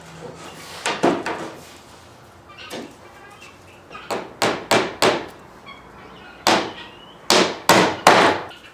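Small nails are hammered into freshly glued wood for a dining table, sharp close taps in quick bursts of two to four, about a dozen strikes in all with short pauses between groups.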